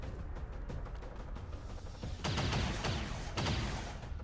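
Heavy gunfire from a battle in the XCOM 2 video game crackles faintly in the background, with two sharper, louder bursts of shots near the end and no talking.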